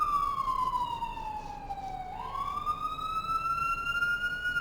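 A passing train's horn gives a loud, sustained blast with a steady tone that dips slightly in pitch, then rises and holds, sounding close by over a constant background rumble.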